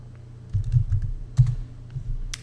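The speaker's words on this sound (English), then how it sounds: "now I type in the country" Several quick keystrokes tapped out on a computer keyboard as a country name is entered, a short burst of clicks followed by a couple of isolated taps, close and clear with no talking.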